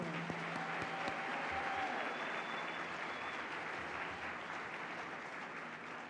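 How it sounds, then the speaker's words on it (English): Audience applause at a Teachers of the Year celebration, a steady dense clapping from a large crowd that carries evenly throughout and eases off slightly near the end. "Please give a round of applause for all of our Teachers of the Year."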